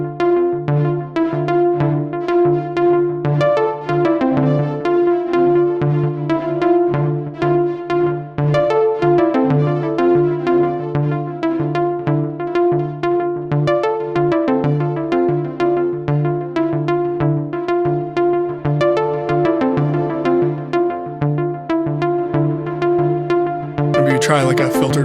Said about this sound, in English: Let's get a reverb in one ear.